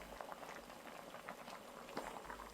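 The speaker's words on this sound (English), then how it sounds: "Then we cook it in some water to make that broth, and continuously skimming off that foam to make sure it has that perfect clarity." Goby fish broth boiling in a pot of water, a steady dense bubbling and popping that runs throughout at close range, with no voices.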